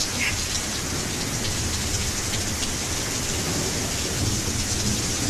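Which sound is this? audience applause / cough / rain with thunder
rain with thunder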